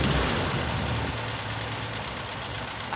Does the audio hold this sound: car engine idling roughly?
yes